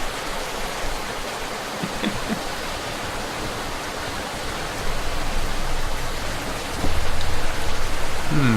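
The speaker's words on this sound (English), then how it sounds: "And to top it off, this rain out of nowhere." Steady rain hiss in the murder mystery adventure game Rainswept, a constant broadband wash with faint ambient tones, growing slightly louder near the end.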